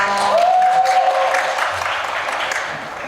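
An audience at a Hangul Day speech contest welcomes the next presenter with applause, a crowd's clapping that is loudest at the start and gradually fades, with a faint tonal sound early on and a hint of voices.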